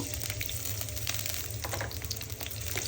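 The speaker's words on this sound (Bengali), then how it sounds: "তেল গরম হয়েছে, পেঁয়াজ কুচি দিয়ে দিব।" Chopped onions sizzle steadily in hot oil in a pan, a continuous close crackling fry for cooking a river silon fish bhuna, with no voices.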